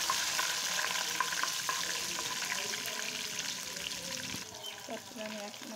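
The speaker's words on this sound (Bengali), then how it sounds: "তখন আমি রসুন দিয়ে দিচ্ছি।" Garlic and cumin frying in a pan, a steady, loud, crackling sizzle throughout with occasional soft clinks and scrapes of stirring.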